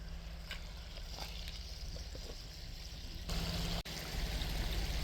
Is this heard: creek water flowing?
yes